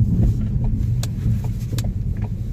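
A car coasting under engine braking, its motor turned by the moving vehicle with no fuel injected, gives a steady low rumble with road and cabin noise and a few faint ticks, and no one speaks.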